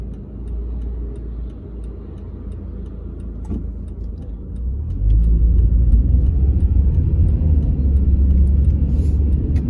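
Road traffic rumbling past a car during a driving test in Bankstown, waiting on a street for a lane change; a steady low engine and tyre roar that swells louder partway through as vehicles pass close by.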